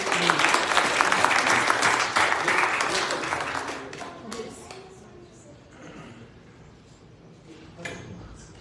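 Applause from a church congregation during a New Year Sunday service, loud and dense for the first few seconds, then thinning and fading while voices talk over the tail.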